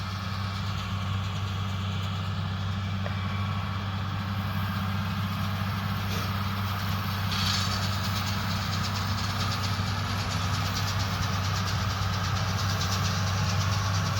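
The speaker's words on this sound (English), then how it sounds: "It's a New Holland BR7090 baler and a Case MXM 130." A Case MXM 130 tractor hitched to a New Holland BR7090 round baler idles in a hay field, a steady low diesel drone with a constant hum, close and continuous, with no talking.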